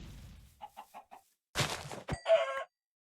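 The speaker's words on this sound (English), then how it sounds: "I'm sure there's chickens around here somewhere" Chickens in the Minecraft modpack All the Mods 10 cluck in a short run of four quick, evenly spaced clucks, followed by a burst of game noise and a brighter squawk, close and clear with no talk.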